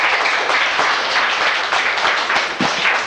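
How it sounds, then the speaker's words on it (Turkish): Schoolchildren clapping together in a small single-classroom primary school, a steady dense patter of many hands throughout, close and fairly loud. "Alkışlıyoruz."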